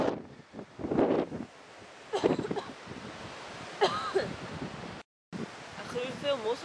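Strong wind gusts buffet the microphone outdoors in Scotland, with bursts of rumbling noise rising and falling while people talk intermittently nearby.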